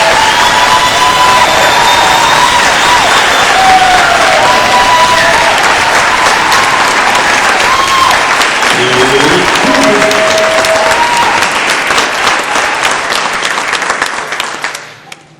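A large conference audience bursts into sustained applause with cheers and whoops, welcoming animal rights speaker Howard Lyman to the stage; dense clapping holds steady for about fourteen seconds, with scattered shouts and a brief voice, before fading out.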